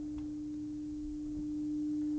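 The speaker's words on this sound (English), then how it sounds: "here is a version where the noise is shaped, so it's a little bit easier to hear the tone" A 4-bit sine tone with noise-shaped dither: a single steady pure pitch held throughout, sitting clearly above a soft bed of hiss and low-end noise.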